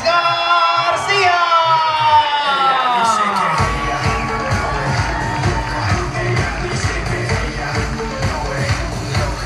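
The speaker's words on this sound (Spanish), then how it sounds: "quiero escuchar más fuerte los gritos, los aplausos para la princesa de la noche" At a quinceañera presentation, a shrill, falling whistle-like tone gives way to a noisy crowd cheering and shouting, with thumping music or rhythmic stamping underneath.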